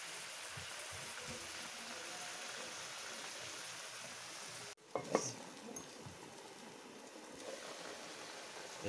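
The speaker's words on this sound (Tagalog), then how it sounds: "Ayan na guys, kumukulo na." Coconut milk stew for catfish adobo with taro leaves and annatto bubbles and simmers in a pot with a soft steady sizzle, then a brief clatter of stirring or a utensil against the pot.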